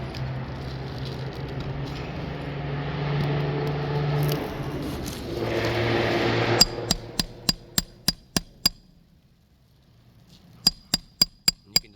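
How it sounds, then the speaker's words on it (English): After a stretch of rumbling background noise, a hammer taps a roof shingle nail in a rapid run of crisp blows, then pauses and strikes a few more times. "Hear the granule loss occurring just every blow of his hammer"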